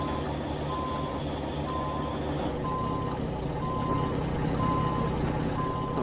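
Steady, evenly spaced reversing beeps ring out from a Mack B62 truck put in reverse, repeating over a constant engine drone.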